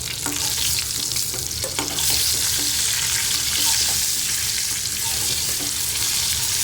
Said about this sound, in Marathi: एक एक वांगी घालूया तेलामध्ये आणि 1 ते 2 मिनटं मस्त अशी वांगी आपल्याला परतून घ्यायची आहेत तेलामध्ये